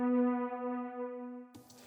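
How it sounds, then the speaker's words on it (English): Korg M1 synthesizer pad strings preset holding one sustained harmonic tone alone for about a second and a half, then cutting off into a brief noisy burst. "This preset is called pad strings,"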